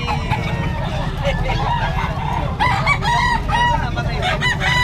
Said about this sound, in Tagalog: Anong type ng manok na yun?